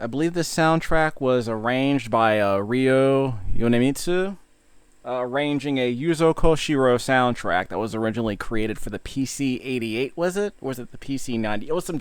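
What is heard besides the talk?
No everyday noise stands out behind the speech.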